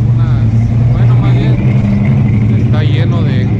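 Many motorcycles idle and rumble together at a gas station gathering for a group ride, a loud steady low engine drone with a rising whine near the end, someone talking over it.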